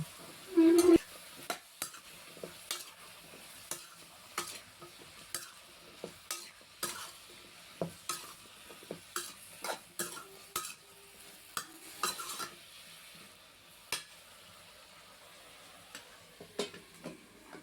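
Brinjal, green chili and mustard seeds fry in coconut oil, giving a soft constant sizzle punctuated by repeated sharp scrapes and taps of a spoon stirring the pan at an irregular rhythm, close and fairly clear.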